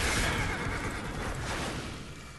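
A fiery horse in Diablo 3: Reaper of Souls gives a loud, dense whinny over a thick, noisy game soundscape, lasting a couple of seconds and slowly fading.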